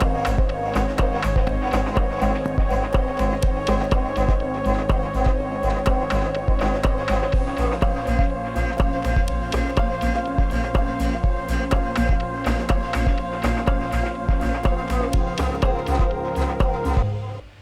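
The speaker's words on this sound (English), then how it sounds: "Today we're going to be looking at this song I'm working on, which sounds like this." A work-in-progress electronic music track plays loud and steady, with a dense driving beat of regular percussive hits over sustained layered tones, running continuously without any voices.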